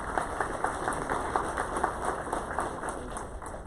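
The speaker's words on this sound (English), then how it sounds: "Let's give them a round of applause." A room of guests at an Eggs & Issues leaders' breakfast in Houston County applauds, many hands clapping steadily and evenly throughout, moderately loud and without voices on top.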